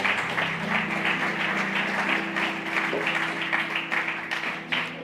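A church congregation breaks into sustained applause, a dense, loud rattle of many hands with uneven swells, carried over steady held musical tones throughout.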